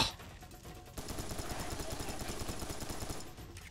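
Rapid automatic machine gun fire in the video game Serious Sam 3: BFE, a fast, even burst of shots lasting a few seconds, fairly quiet overall.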